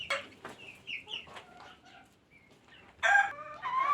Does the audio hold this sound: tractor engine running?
no